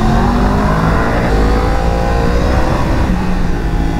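A motorcycle engine revs loud and close, with quickshifter gear changes chopping the steady roar as it accelerates.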